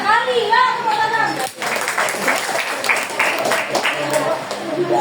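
A classroom of Indonesian high school students claps together in a burst of scattered applause, preceded by a teacher's voice and children's chatter, moderately loud and close.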